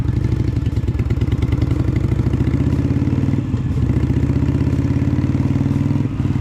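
Harley-Davidson Iron 883 motorcycle cruising at about 45 mph, a loud, steady, rumbling V-twin engine drone with a dense rapid pulse, close and continuous throughout with slight dips.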